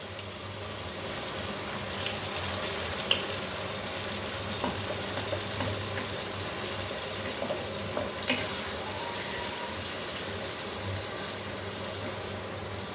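Cold cooking oil heating in a pan on medium heat beside a whole tomato, giving a steady soft sizzling hiss with a few faint crackles and small clicks throughout, fairly quiet and without voices.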